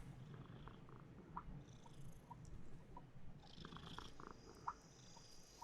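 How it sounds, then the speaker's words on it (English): A pet cat purrs softly and steadily in a warm bath in the video game Life Makeover, a faint low rumble with light clicks and chimes scattered over it, no talk. "Purring in the bath."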